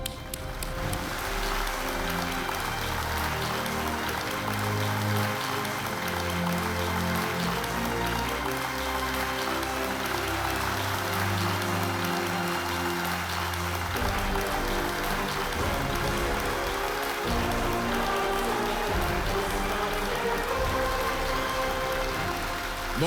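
Studio audience at a KBC quiz show bursts into sustained applause, a dense, even patter of many hands clapping continuously with music playing underneath, no talking over it.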